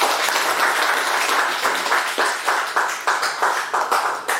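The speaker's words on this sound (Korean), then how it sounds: "다시 한번 따라 박수하겠습니다." Church congregation clapping together during a Sunday service, a loud wash of applause settling into rhythmic, unison claps that repeat steadily toward the end.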